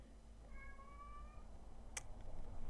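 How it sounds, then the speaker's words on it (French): A house cat gives a short meow, its rising, wavering tones lasting about a second, followed by a brief sharp clatter, with steady low hum beneath and no talking. "mon chat me déconcentre"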